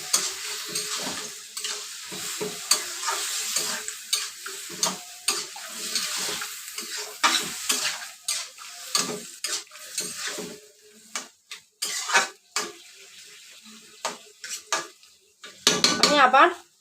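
Jackfruit frying in spice masala in a pan, with a metal spatula scraping and clanking against the pan in irregular bursts over a soft sizzle and a louder sputter at the end.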